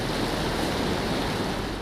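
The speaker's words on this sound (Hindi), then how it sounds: "पानी का बहाव इस कदर तेज है कि अगले पल कुछ भी हो सकता है" Fast-flowing floodwater rushes loudly and continuously as it sweeps a heavy jeep away, a dense, roaring wash of water with wind noise and no voices.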